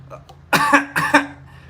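Two close, loud, harsh coughs follow each other quickly, with a faint throat sound just before them and no talking.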